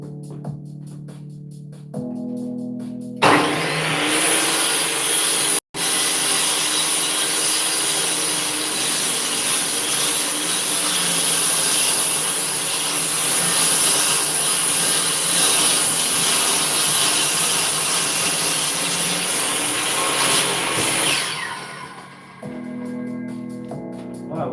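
A power saw cuts steadily through a piece of very hard wood for about eighteen seconds, loud and close, with a brief break near the start; quiet room sound comes before and after the cut.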